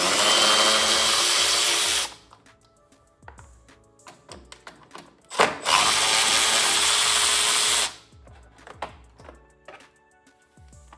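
A power driver runs in two long bursts, loud and close, backing T25 Torx bolts out of the carburetor cover on an Ariens Deluxe 28 snowblower, with light clicks and metal taps between the bursts.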